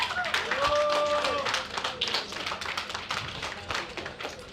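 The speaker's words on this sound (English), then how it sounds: "Big round of applause for him." Applause and scattered clapping for the champion of a high roller poker final table, a fairly dense burst that thins out over a few seconds, with a few tonal electronic sounds and background voices.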